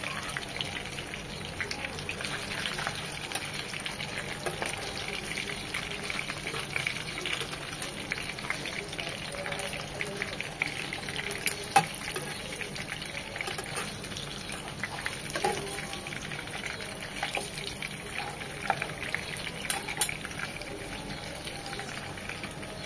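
Hilsa fish pieces frying gently in oil, a soft, even crackle and spatter like light rain that runs steadily without break, fairly faint and close, with no voices over it.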